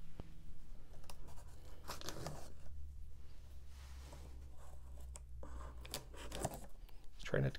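Scissors snipping and slicing through packaging to open a board game box from Stonemaier Games, a series of close crisp cuts and rustles with a person talking at times.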